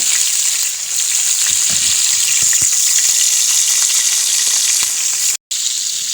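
Garlic and onion sauté in hot oil in a pan for a chicken cream dish, giving a loud, steady crackling sizzle up close with a few faint stirring knocks and a brief cut near the end.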